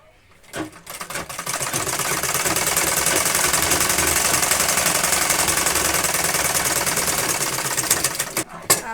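A close, loud sewing machine stitches a petticoat in one long unbroken run of about eight seconds, its needle chattering at an even, rapid pace before it winds down.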